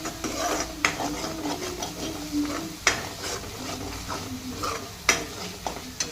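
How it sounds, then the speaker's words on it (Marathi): Masala stir-fried in oil for a green-chilli brinjal and potato dry sabzi, with a steady close sizzle under repeated scraping strokes of a spatula and three sharper clacks against the pan. "चला असं थोडंसं तेल सुटेपर्यंत हे पुन्हा सर्व मग मसाला असा परतवून घ्यायचा छान"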